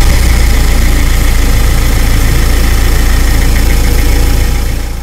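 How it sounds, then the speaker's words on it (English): Mercedes Sprinter van engine running at a steady idle, a loud continuous low rumble with a faint knocking vibration, holding even throughout and easing slightly at the end, with no voices. "I'm going to give the engine a start and then check the level."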